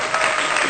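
An audience applauds to welcome a speaker at a gathering, a brief, dense burst of many hands clapping loudly and evenly.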